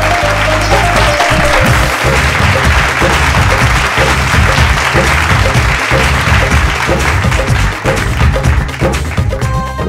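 A studio audience breaks into loud, sustained applause to welcome a contestant onto the stage, with a dense wash of clapping and a low thumping beat running beneath it.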